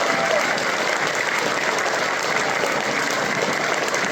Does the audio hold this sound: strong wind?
no